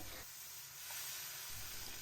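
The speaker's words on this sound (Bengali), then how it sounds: "এই সবজির সাথে এবার কিন্তু একদম লো ফ্লেমে এটা ভাজা হবে" Semolina frying with chopped vegetables in a pan over a low flame, giving a steady soft sizzle and hiss that runs throughout at a close, moderate level with no talking.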